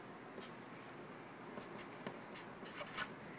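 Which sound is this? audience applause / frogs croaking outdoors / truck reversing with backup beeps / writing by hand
writing by hand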